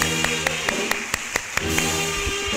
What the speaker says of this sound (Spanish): ¡Fuerte el aplauso a nuestra patrona!